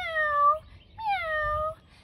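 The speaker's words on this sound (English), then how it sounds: "That little cat went meow." A cat meows twice, two drawn-out, falling cries separated by a short pause, close and clear.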